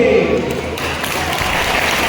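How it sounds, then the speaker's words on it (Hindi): A loud burst of audience applause fills a gathering at a children's spiritual camp. Dense clapping starts strong and carries steadily to the end. "वाह वाह, जोरदार तालियां।"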